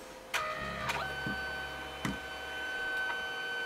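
A LIENE photo printer makes its final pass on a picture, giving a quiet mechanical run with a steady whir and a few sharp clicks and ticks, heard alone at close range.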